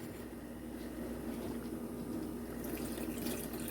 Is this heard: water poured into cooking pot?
yes